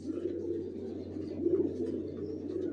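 Racer pigeons of the Johnson line, young birds kept in a loft, coo softly and continuously in a low murmuring chorus over a steady background hum.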